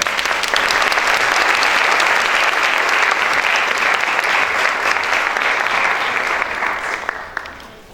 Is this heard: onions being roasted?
no